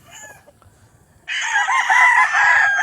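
Rooster crowing at the RSC game farm, a single loud, sustained crow starting after a second of quiet ambience and holding strong near the microphone to the end.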